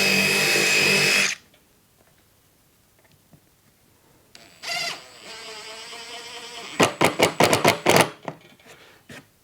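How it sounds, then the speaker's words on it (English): Impact driver reaming out a screw hole in wood while a nesting box is assembled, a loud buzzing whir for about a second, then quiet, followed by a short burst and a rapid series of sharp impact rattles. "I then take the impact driver and just ream out that hole a little bit to take the"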